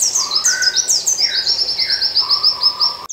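A pleci (white-eye) bird chirps in quick, bright, high-pitched rippling phrases, loud and close, repeating rhythmically without pause and standing alone.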